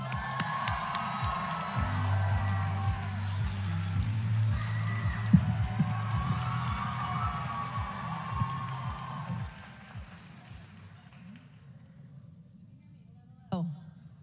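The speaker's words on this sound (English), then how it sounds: "I thought you were excited cheering for me" An audience cheers and whoops for a speaker at a White House forum on Asian Americans, Native Hawaiians and Pacific Islanders, a loud sustained crowd roar that fades out near the end, with a voice speaking over it.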